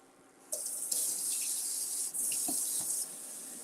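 A kitchen sink tap runs over black beans being rinsed, water switching on with a bright steady splashing hiss, a brief change in flow partway, then cutting off, with no talk.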